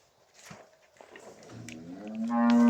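A Friesian cross cow with her calf lows close by, a rising harmonic moo building in the last second over soft barn noise, with shorter murmurs earlier.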